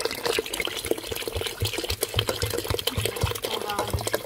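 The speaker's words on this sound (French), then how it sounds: "on ajoute l'eau bien chaude" Very hot water pours into a pot for harira, a traditional lentil soup, giving a continuous close-up splashing and gurgling stream with a few soft knocks.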